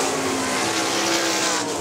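Sprint cars racing on the dirt oval at Hartford Speedway Park, a loud continuous roar of engines at high revs.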